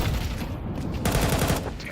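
In a Counter-Strike esports match, a thrown grenade sounds amid rapid gunfire, loud close bursts with a sharp crack midway.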